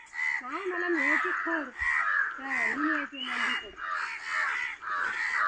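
Crows cawing in the morning, loud and close, with repeated harsh caws in quick runs over about five seconds, overlapping one another.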